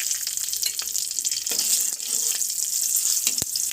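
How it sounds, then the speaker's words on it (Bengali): Nigella seeds and two slit green chilies sizzle in hot oil for a tempering, a steady close, bright frying hiss with a few faint clinks, and no speech. "তেলটা গরম হয়ে গেছে, এখন আমি ফোড়নে দিয়ে দিচ্ছি কালো জিরে। আর দিয়ে দেবো দুটো চেরা কাঁচা লঙ্কা।"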